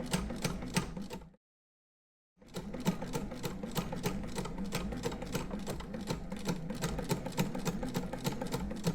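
An 1869 Wheeler & Wilson No8 sewing machine stitches with a fast, even mechanical clatter, close up. It stops for about a second, then runs on at the same steady rhythm.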